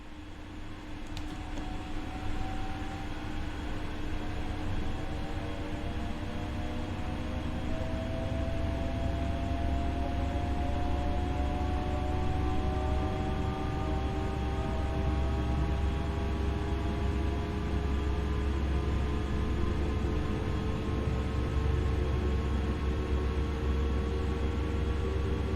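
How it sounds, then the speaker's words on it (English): Simulated train on the Zwolle–Groningen line in Train Sim World, accelerating steadily: a continuous loud rumbling roar with rising whining motor tones that climb in pitch over about 25 seconds, with no voices. "Accelerate the train now and exceed the speed limit."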